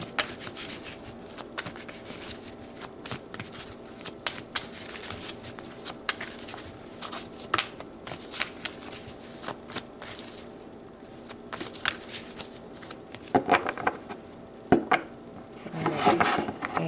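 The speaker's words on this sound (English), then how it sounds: "felt another shuffle was needed" Tarot cards are shuffled steadily, with a long run of dense riffling and flicking clicks, close and moderately quiet, and slightly busier toward the end.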